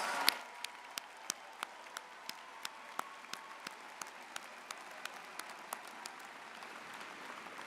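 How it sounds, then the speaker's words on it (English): Applause for new doctoral graduates at a spring commencement ceremony comes across as faint, sparse, evenly spaced claps that stand out sharply from a quiet, roomy background. "please join me in applauding our newest doctoral graduates"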